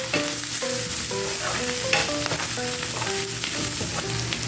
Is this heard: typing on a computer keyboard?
no